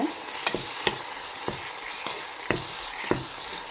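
Tomatoes with a little salt sauteing in a pan for a cauliflower gravy, under a low hiss of frying, punctuated by about seven sharp spatula taps and scrapes in an uneven rhythm, close and quiet with no talking.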